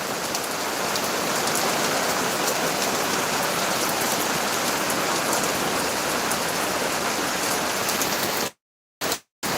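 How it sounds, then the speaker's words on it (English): Steady, loud rain pours down outdoors, a dense continuous hiss of drops hitting surfaces that fills the scene alone before cutting off abruptly near the end. "It's a shame it's raining because it's really pretty out here."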